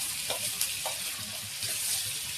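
Bitter gourd fries with onion in a pan, giving a close, steady hiss of sizzling oil broken by a few soft stirring scrapes. No one speaks.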